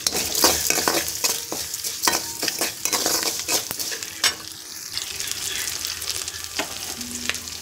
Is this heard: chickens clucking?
no